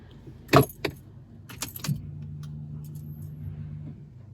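Car engine, stalled earlier, is started with a key: keys jingle and click, a brief cranking burst, then the engine catches and settles into a steady low idle hum nearby.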